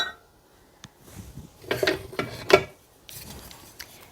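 A wooden spoon scrapes and stirs thick chocolate pudding around the bottom and corners of a pot, giving intermittent rubbing scrapes and soft knocks in short bursts, with quiet pauses between strokes.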